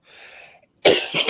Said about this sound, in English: as soon as you talk about health, you start coughing